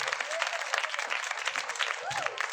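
Applause for Rahul at a foundation day event in Shahbad Dairy, a brief burst of dense clapping from a crowd, fairly close and steady.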